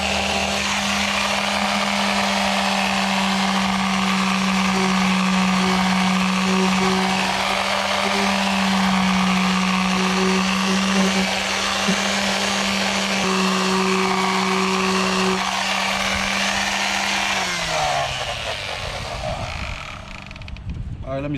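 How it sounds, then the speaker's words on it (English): A power sander works over foam on a pond hopper rebuild, a steady close mechanical hum and whir with a strong droning tone that runs evenly, then winds down near the end. "I also find that I am able to sand on this this foam"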